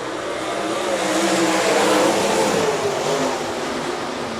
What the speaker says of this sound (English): Ledger and Dylan Opdahl now work together to set the pace on this 8-lap heat race number 1 of 3